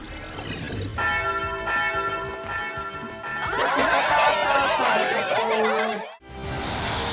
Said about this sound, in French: c'est à toi de faire sonner la cloche